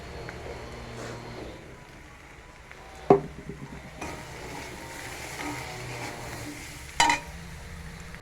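Turmeric, salt and chilli fry with potato and onion in a pan, giving a soft continuous sizzle close by, broken by two sharp clanks of a spoon against the pan.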